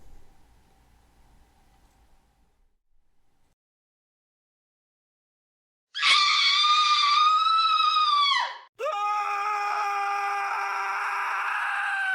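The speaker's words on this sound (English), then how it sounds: "We're going to kick off our spooky season with a scream." A loud, drawn-out shriek opening a spooky-season event bursts in after a few seconds of near silence, holds for about three seconds, breaks briefly, then returns as a second sustained piercing scream to the end.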